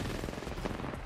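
Brief burst of G7 Scout rifle fire in Apex Legends, a short run of rapid cracking shots with dense noisy texture, fairly faint and lasting about a second.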